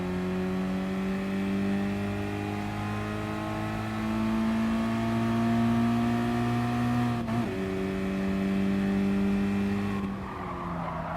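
A GT Sport video game race car's engine hums in a close, sustained, rising drone, then dips sharply under a brief touch of the brakes before climbing again and tailing off.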